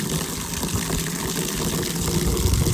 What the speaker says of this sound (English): They can hear the water, I think.